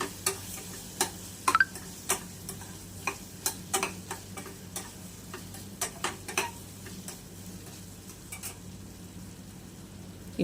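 Beans and carrots are sautéed in a pan for prawn semiya, with irregular light clinks and taps of a spatula against the pan over a faint low sizzle, close and fairly quiet.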